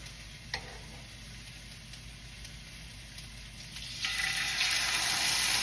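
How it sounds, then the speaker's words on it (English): Steaks seasoned with olive oil sizzle and crackle in a hot pan, a soft hiss that swells louder toward the end. "When you hear the sizzle, it's ready to go."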